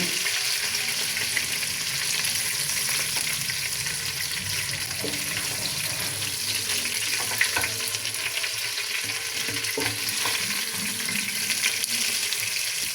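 Cauliflower, potatoes and fish fry in a karahi pan with a constant, dense sizzle and occasional stirring scrapes, steady and close throughout, with no voices.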